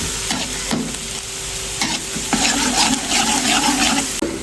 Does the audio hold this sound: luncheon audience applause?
no